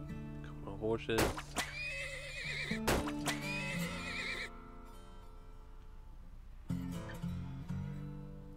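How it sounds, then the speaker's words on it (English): Horses in the video game Turmoil neigh and whinny in a few sharp, high bursts, with some hoof clip-clop and a voice talking over the game sounds. "Couple of horses."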